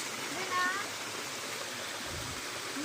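Water flowing along the stream at Busay Falls in Sitio Kanturayan, Bugasong, Antique, a steady broadband rush that holds evenly throughout, with brief faint voices near the start and end.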